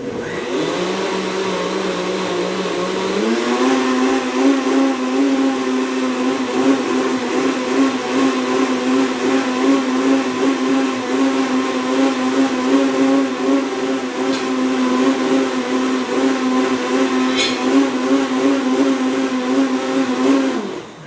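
An electric blender runs loud and steady, pitch climbing once the motor spins up about three seconds in, then whirring continuously while a comfort-food batch purées smooth, with no talking over it.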